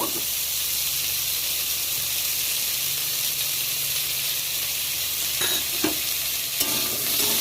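Potato pieces fry in hot oil for a Bengali mixed-vegetable spinach dish, giving a steady bright sizzle and hiss throughout, with a few brief clinks and stirring knocks near the end.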